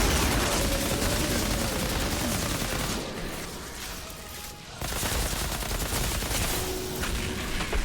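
Dense, continuous gunfire in the video game Outriders, loud and close, with rapid bursts running almost nonstop, a brief lull midway, then more shooting.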